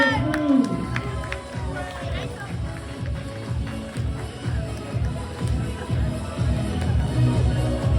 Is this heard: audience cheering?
yes